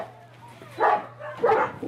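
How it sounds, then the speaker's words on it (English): Rescued dogs, including a mother with her pups, give two short bursts of whimpering and barking amid cages and garbage. The sounds are close, over a constant low hum. "There's a mama with her pups, more pups."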